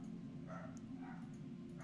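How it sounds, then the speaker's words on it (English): Several dogs bark in the distance, faint, excited yips and woofs coming in short bursts over a steady low hum. "There's my dogs barking in the background if you can hear them."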